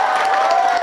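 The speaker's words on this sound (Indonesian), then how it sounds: "Tepuk tangan lah untuk bagian itu." A crowd at an outdoor religious gathering in Simpang Raya, Kuansing, cheering and clapping together in a steady, loud wash of applause with raised voices, with no single voice standing out.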